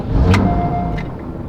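A Porsche fitted with lowering springs starting up, a short sharp crank followed by the engine catching into a steady idle, loud and close.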